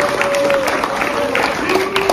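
A crowd applauding, a dense patter of clapping held at a steady level through the short stretch, with a voice speaking over it.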